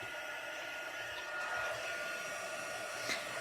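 Electric heat tool blowing hot air over embossing powder on a card, a steady close whooshing roar running alone throughout with no talk.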